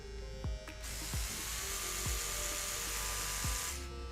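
An Oral-B iO electric toothbrush running with a loud, steady high-pitched buzz, close up, with soft intermittent low clicks and knocks underneath before it cuts off near the end.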